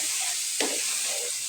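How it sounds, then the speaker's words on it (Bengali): A spoon stirs duck egg curry with potatoes, tomatoes and peas simmering in a pan, a steady sizzling hiss broken by one quick scraping stroke near the middle. "নাড়াচাড়া করে ভালো করে কষা"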